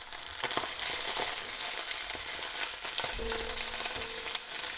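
Pork sausages fry and sizzle in a pan with a dense, continuous crackle and occasional sharper pops, alone and without any talk.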